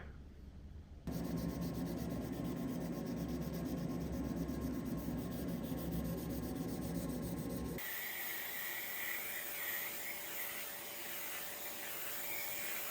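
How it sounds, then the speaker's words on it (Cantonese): Hand sanding of a wooden acoustic guitar body along the grain, a steady continuous rubbing hiss that runs close and loud, changing to a brighter, thinner scrape partway through, with no talking. "最後一次打磨咧，我會用人手順住木紋去打磨嘅"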